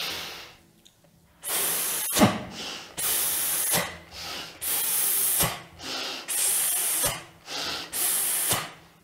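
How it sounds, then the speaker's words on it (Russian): A person does a breathing exercise, pushing out long, sustained hissing "s" exhales during voice training. There are about seven strong, steady hisses, each one to two seconds long, separated by short pauses for breath. "Okay, now let's try s sound."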